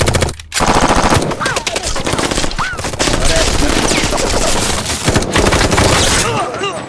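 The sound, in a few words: gunfire from machine guns in a played Punisher film scene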